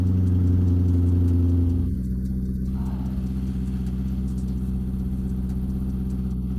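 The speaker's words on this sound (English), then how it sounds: "Cold start? Let's go right now then." An American supercar's engine turns over on a cold start, a loud high-revving roar that settles after a couple of seconds into a steady, lower idle with a faint clatter.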